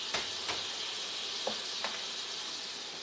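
Juice hits a hot pan holding a grilled pork chop, giving a steady, soft sizzle with a few sharp pops and crackles, no voices.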